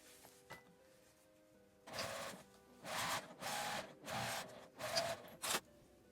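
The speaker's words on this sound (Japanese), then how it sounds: "表側から端ミシンをかけます。" A sewing machine topstitching the edge of a zippered flat pouch, several short bursts of stitching separated by brief pauses, close and fairly quiet.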